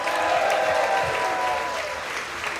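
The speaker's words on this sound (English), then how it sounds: "please give a warm round of applause to Hung Lee" Warm audience applause fills the hall, a thick continuous patter of many hands that holds steady and eases slightly toward the end.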